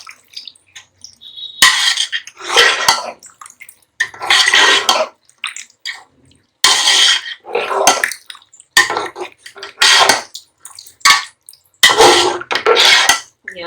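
A spoon clatters and scrapes against a metal pot as chicken reshmi handi ingredients are mixed, in loud irregular bursts with short pauses between them and no talking.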